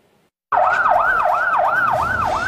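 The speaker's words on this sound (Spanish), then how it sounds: "El sonido de la ambulancia daba cuenta de la tragedia." An ambulance siren wails in a regular rising-and-falling cycle, starting abruptly after a moment of quiet, loud and close.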